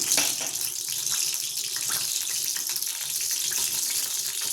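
Mustard seeds, cumin and ajwain crackle and sizzle in about three spoons of hot oil for a Gujarati tempering, a steady loud hiss with dense popping throughout.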